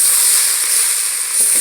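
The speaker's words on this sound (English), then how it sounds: "we caramelize onions right here, and then we caramelize them until they become brown" Onions caramelize in a pan for onion soup, a steady close hiss and sizzle with no talk.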